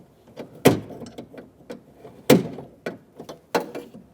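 Mechanical clicks and snaps from reconnecting the door lock rods and clipping their small retaining locks inside a 2011-2018 Ram 2500 front door, with two sharper, louder snaps among several lighter close-up clicks.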